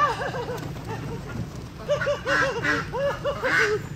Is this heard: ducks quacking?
yes